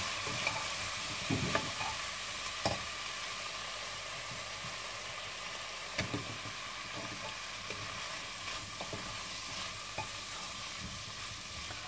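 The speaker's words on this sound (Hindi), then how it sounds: "और मसालों के साथ इसको हम मीडियम फ्लेम पे तकरीबन 1 से 2 मिनट के लिए और पकाएंगे।" Vegetables with turmeric and garam masala fry in a pan for kadhi, a steady soft sizzle broken by scattered scrapes and knocks of a stirring spoon, with no voices.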